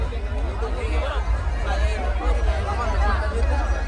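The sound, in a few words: crowd chatter at village fair (yatra)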